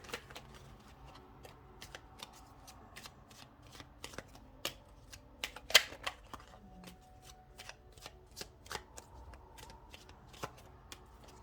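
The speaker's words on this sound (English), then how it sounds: "Let's get you a few more cards out here." Tarot and oracle cards are shuffled and drawn close by, a steady run of soft flicks and riffles with one sharper snap near the middle and no talking.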